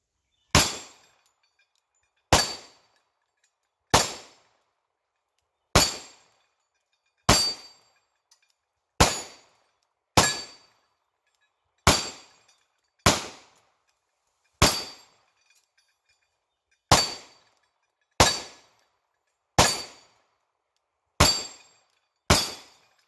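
Sharp, loud single shots from a Rock Island Armory TAC Ultra 10mm pistol firing PMC 200-grain rounds at steel targets ring out about fifteen times at slightly irregular intervals, each followed by a brief decay and near silence.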